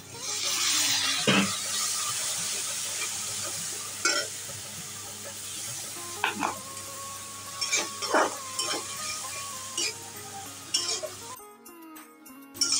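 Chicken sizzles and fries in a pan with spices and a splash of spice-rinsing water, scraped and stirred in irregular bursts over a steady hiss, cut off abruptly near the end.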